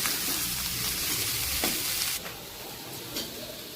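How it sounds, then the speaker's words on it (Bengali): Shredded cabbage and carrot fry for chowmein in a loud, continuous sizzle with stirring scrapes, then the hiss drops sharply partway through and a few clinks follow. "এখন আমি এটাকে ভালো করে ভেজে নেব শুধু এখন ভালো করে ভাজতে হবে"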